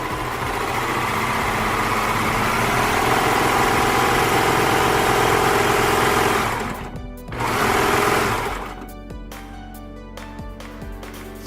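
A Baby Lock Enlighten serger stitches a rolled hem on cotton fabric, running as a loud, steady mechanical whir near the listener for about seven seconds, briefly pausing, then starting again and slowing into lighter intermittent whirring.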